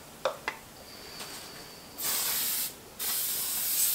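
A can of aerosol fixative for a charcoal drawing rattles briefly, then two long hissing bursts of spray, close and loud, separated by a short pause.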